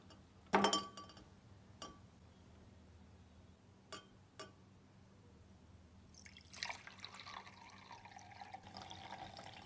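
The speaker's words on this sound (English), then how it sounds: "I'm going to go ahead and tilt this larger beaker so that the displaced water goes into the smaller beaker." Glass beakers clink in a quiet lab, then water trickles and pours from a tilted larger beaker into a smaller one, a faint splashing near the end.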